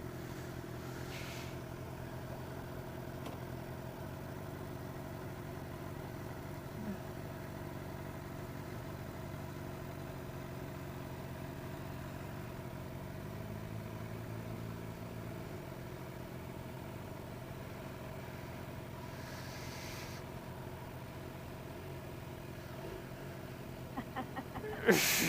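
Suzuki GSX-R750 motorcycle engine on a first solo ride, a steady low idle humming throughout at moderate distance, with a slight rise in pitch partway through and a brief clunk near the end.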